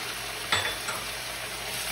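Onions, garlic and mixed spices being stirred in a frying pan, a constant close sizzle with a single utensil scrape and clink partway through, no talking.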